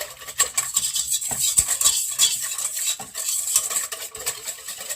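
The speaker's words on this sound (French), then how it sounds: "J'ai enfin pu mettre mes 80 grammes de lait en poudre. Je vais maintenant correctement mélanger." A spoon stirs a bread dough mixture with 80 grams of powdered milk in a bowl, giving steady scraping and clinking that runs close and continuous, with no talk.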